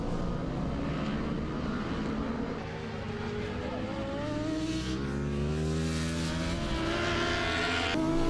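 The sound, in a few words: superbike motorcycles racing at Circuit Carole, FSBK 2016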